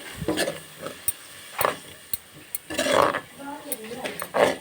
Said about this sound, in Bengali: ভালো করে মিক্স করে নিচ্ছি আমি